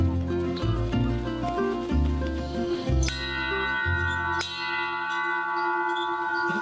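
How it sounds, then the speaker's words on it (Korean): Cheerful bell chimes ring out at a jungle school, several bright strikes layered over a steady melodic backdrop, loud and sustained with ringing decay. "경쾌한 종소리와 함께 시작된 아가페 정글 학교의 하루"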